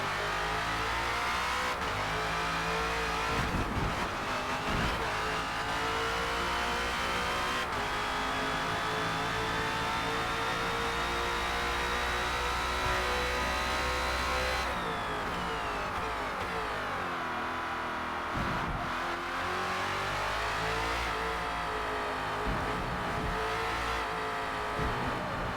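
A Ford Falcon FG X race car in Forza Motorsport laps the Indy GP circuit, its engine droning loudly and continuously, rising and falling with gear shifts and throttle lifts for the whole stretch.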